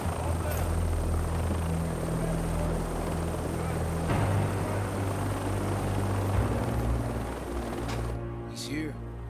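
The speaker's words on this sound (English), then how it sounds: "Just getting out of the helicopter." A helicopter's rotor and engine drone steadily and loudly near at hand, thudding low throughout, while voices talk over it before the noise drops away near the end.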